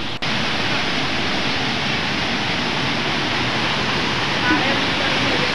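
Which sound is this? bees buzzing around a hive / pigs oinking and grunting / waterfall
waterfall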